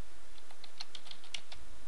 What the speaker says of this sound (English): Now he can enter that number using the keyboard.